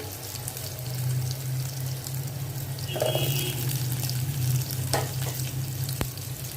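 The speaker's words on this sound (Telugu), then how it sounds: "నూనె కాగింది. కాకరకాయ కూర కోసం ఉల్లిపాయలు కొద్దిగా మగ్గనియాలి." Onions fry in hot oil for a bitter gourd curry, making a steady close sizzle with a low hum underneath and occasional faint stirring clicks.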